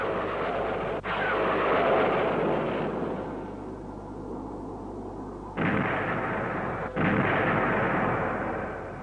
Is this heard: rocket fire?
yes